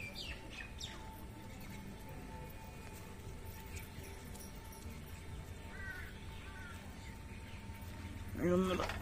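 Two young biscuit pigeon chicks calling indoors in a pigeon loft, thin rising squeaks coming in short bursts, with a louder cluster near the end, over a low steady room hum.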